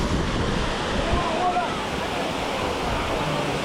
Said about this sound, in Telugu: సో ఇదంతా ఓషన్ వాటర్, ఇదంతా సాల్ట్ వాటర్.